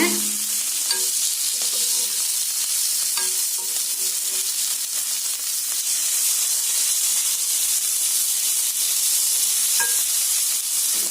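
Ola karuvadu dry fish frying in a little oil, giving a steady, close hiss and sizzle throughout with occasional soft scrapes and stirring clicks.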